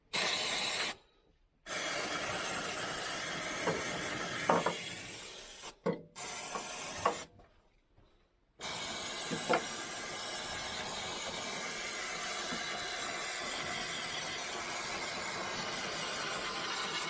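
Brake cleaner hisses from an aerosol tin in long, steady bursts during spark plug work on a side-by-side project vehicle, with short pauses between sprays and no talking.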